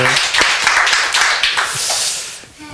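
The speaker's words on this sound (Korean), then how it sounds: "이럴 때 하나님께 영광의 박수 한번 올려드릴까요?" A church congregation bursts into loud, close applause during a sermon, many hands clapping in a thick, busy texture with sharp individual claps standing out.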